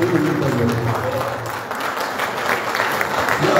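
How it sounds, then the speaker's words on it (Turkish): Warm audience applause fills the hall at the first ordinary general assembly of the Öz Sağlık İş union's Tekirdağ branch, a dense, steady clapping from many hands with a voice faintly over it. "Bir alkış."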